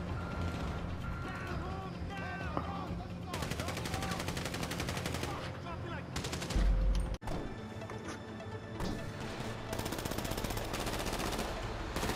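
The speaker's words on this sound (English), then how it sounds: "He's shooting." GTA 5 Online gunfire crackles in dense automatic bursts, loud and close, with a crash partway through and game sounds and mechanical noise underneath, while a voice talks briefly.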